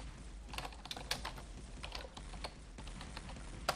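Fingers type on a German computer keyboard in a quick, irregular run of close key clicks with brief pauses, no voice over it.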